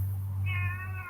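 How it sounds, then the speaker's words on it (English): A cat meows once, a clear drawn-out call rising over a steady low hum in the room. "That's my cat."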